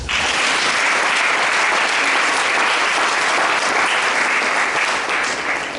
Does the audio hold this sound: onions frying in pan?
no